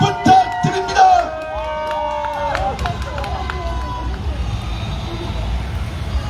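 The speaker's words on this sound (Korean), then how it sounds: "뜨거운 박수로 모시도록 하겠습니다" Crowd at an outdoor political campaign rally at Hamdeok Beach in Jeju claps and cheers as a lawmaker is welcomed, a busy wash of applause and voices with a loud announcer speaking over it at the start.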